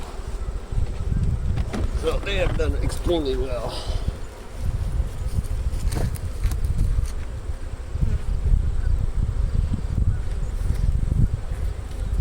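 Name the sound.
honey bees buzzing around beehives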